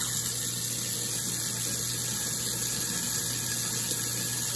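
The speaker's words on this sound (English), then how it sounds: "that is the new garbage disposal" Kenmore 3/4 horsepower automatic reversing garbage disposal runs with tap water flowing, a steady even hum and rush with a low motor tone underneath, fairly quiet and unchanging throughout with no talking.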